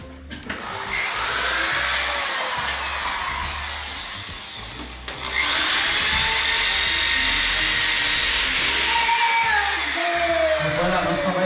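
A power drill with an 8 mm bit bores into a wall while a new house is redecorated. It gives a loud, continuous whirring grind up close that eases slightly, then surges louder halfway through and holds steady to the end.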